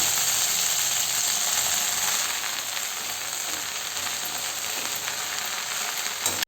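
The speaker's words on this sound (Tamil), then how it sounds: "இப்போ இதில் சேர்த்து வதக்கலாம்" Coriander leaves, chopped with their stems for thokku, sizzle steadily in hot oil in a pan: a loud, continuous hiss that eases slightly midway and cuts off abruptly at the end.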